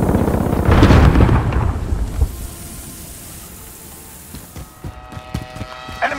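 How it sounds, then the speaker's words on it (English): Precision airstrike explosions in Call of Duty: Modern Warfare, a heavy rumbling boom that fades into distant crackles and a few sharp pops near the end. "Advise, friendly precision airstrike inbound."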